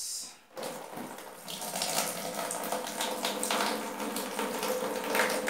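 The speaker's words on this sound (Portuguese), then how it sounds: "Vou abrir a água." A tap is opened after a short silence, then water gushes and runs steadily with a bright hissing splash, fairly quiet and close, no voices.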